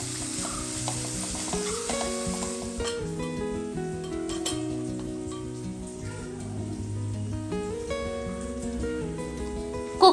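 Curry leaves and spices fry in a pan with steady oil sizzle and crackle, joined by clinks and scrapes of a spoon stirring against the metal, and a sharp knock at the end.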